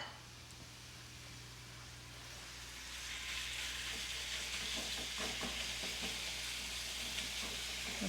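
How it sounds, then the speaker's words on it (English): Chicken pieces sizzle steadily in a hot pan, the hiss swelling louder partway through with faint stirring scrapes, close and continuous. "we're going to get a nice sizzle on that"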